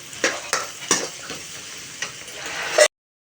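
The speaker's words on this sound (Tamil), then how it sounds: "முட்டை வேகுது பாருங்கள்" Egg and onion fry in a pan, a close, continuous sizzle punctuated by several sharp spatula scrapes and taps as the mixture is stirred.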